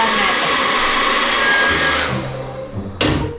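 A blower heats a stuck-on sticker to loosen it, a steady loud airflow roar that cuts off partway through, followed by a brief clunk.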